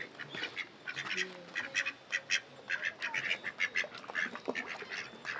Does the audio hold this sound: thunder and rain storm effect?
no